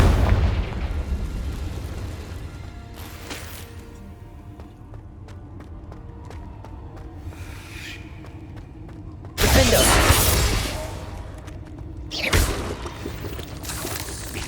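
Confringo fire spells exploding in the video game Hogwarts Legacy, heavy booming blasts with rumbling low ends, two loud bursts standing out among quieter game effects and a fading roar.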